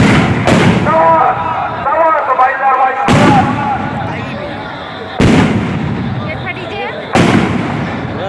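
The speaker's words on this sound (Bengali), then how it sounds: "এই বোমগুলো ফাটছে" Firecracker bombs bursting at a Durga Puja festival in a town bazaar, four loud sharp blasts spaced a couple of seconds apart, each trailing a crackling echo, with a crowd and voices talking underneath.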